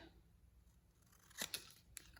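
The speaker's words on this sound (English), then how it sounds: "I'm just going to cut it right in half" A few crisp scissor snips through paper, short and close, clustered together near the end against a quiet background.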